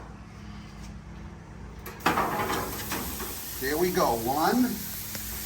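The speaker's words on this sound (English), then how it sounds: "We have a nice hot grill. We should hear these sear when they go on." Pork ribs hit a hot grill with a sudden sizzle that grows louder as more pieces go down, a steady close searing hiss while a man counts them aloud.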